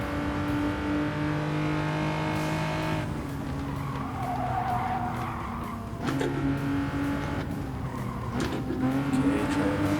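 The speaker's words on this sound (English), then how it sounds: "The car's feeling good with that nice pull up this long hill." A Hyundai Genesis Gr 4 race car in a racing video game climbs a long hill on the Dragon Trail Seaside circuit, its engine droning through rising gear pulls with tire squeal, shifts and other cars nearby.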